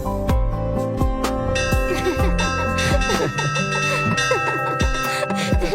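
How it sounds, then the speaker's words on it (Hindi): A metal bell rings repeatedly in a busy scene, bright struck tones with lingering overtones repeating irregularly and close by, alone without talk. "घंटी क्यों बजा रहे हो?"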